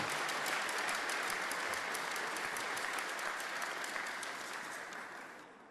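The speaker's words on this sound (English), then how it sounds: "Give them another great big round of applause and appreciation." An audience at the grand opening of a university aquaculture lab gives a steady, even round of applause, heard from a distance, that tapers off gently at the close.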